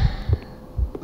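A slow, deep heartbeat from the music of the video game Dark Domination, three soft low thumps in a lub-dub rhythm over a faint hum, close and alone.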